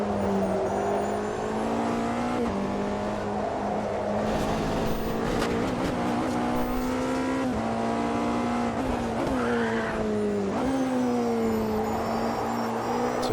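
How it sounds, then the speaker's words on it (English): A hypercar in the Automobilista 2 racing sim drones at steady high revs, its engine pitch rising and dipping as a locked wheel skids with a squealing tire, loud and continuous with no talking. "Typical wheel lock, you feel so helpless once the wheel decides that it's locked up."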